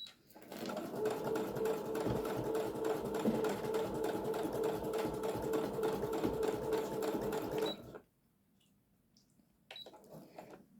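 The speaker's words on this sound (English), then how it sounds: "It's quite quiet though, I think, this sewing machine" Sewing machine stitching through a fabric journal cover, a steady close whirring chatter of rapid needle strokes for about eight seconds, then stopping abruptly, with a brief faint restart near the end.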